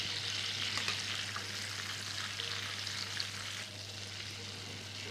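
Cumin seeds fry in a mix of butter and oil, a close, steady crackling sizzle with tiny pops over a low constant hum, with no voices.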